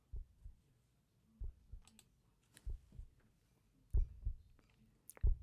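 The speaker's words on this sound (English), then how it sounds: "So this was the trigger off an Xbox controller." Soft, low thumping clicks from an Xbox controller trigger repeat in an uneven pulse, faint and close, like a muffled heartbeat.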